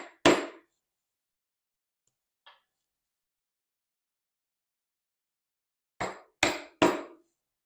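A mallet drives a chisel into wood to chop a mortise in hand-tool woodworking: sharp, close knocks, one at the start, a faint tap in the middle, then three quick blows in a row near the end, separated by silence.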